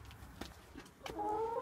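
Chickens cluck in short, scattered calls, a few separate clucks spaced apart at moderate distance, fairly quiet and with no voices over them.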